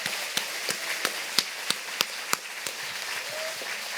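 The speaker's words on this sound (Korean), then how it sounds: "자, 여러분 왜 박수 한 번을 안 치실래요?" Church congregation at a Sunday evening service giving sparse, scattered applause, with distinct individual claps standing out over a soft hiss of room noise rather than a full ovation.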